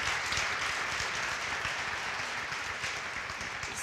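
An audience at a literary society event applauds, many hands clapping in a thick, continuous patter that eases slightly toward the end, with no talk on top.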